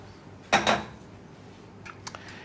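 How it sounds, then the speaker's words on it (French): Oysters go into a pan of prepared broth to poach. Two quick, fairly loud clattering knocks land close together, followed by a few faint light taps. "Nous allons mettre les huîtres à pocher dans notre petit bouillon que nous avons préparé."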